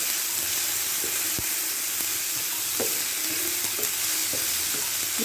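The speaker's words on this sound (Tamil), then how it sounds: "இதையும் வதக்கிக்கலாம்." Vegetables for kurma, with a little chili powder added, sizzle steadily in a hot pan. A continuous frying hiss runs throughout, broken by occasional scraping and knocking from stirring. No one speaks.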